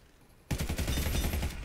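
Rapid automatic fire from the WAY GRAY RG-15 in the shooter game Warface breaks a brief quiet and runs as a loud, steady burst of close shots.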